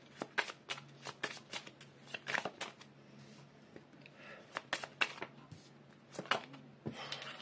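Oracle cards shuffled by hand in a quiet room, a run of quick papery riffles and soft slaps in irregular bursts, close and fairly faint.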